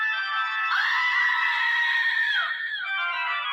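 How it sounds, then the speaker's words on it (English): A screaming goat novelty toy lets out one long, loud, bleating scream that holds steady for about two seconds and then dips and trails off, heard alone and up close. "screaming goat"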